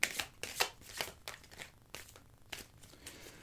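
Tarot cards being shuffled and cut by hand, a series of soft, quick riffling and crinkling bursts in an uneven rhythm, close and fairly quiet, with no talk.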